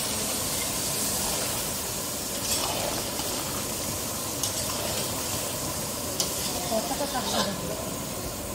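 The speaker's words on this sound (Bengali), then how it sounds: "নাড়া হচ্ছে।" Spices fry with tomato and onion in a pan, giving a steady hiss and sizzle, while a spoon stirs with faint scrapes and taps now and then.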